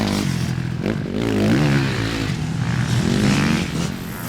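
An enduro motorcycle accelerates through a rut on an enduro training course, the engine revving up and down in loud, close surges with some scraping and clatter, and no voices.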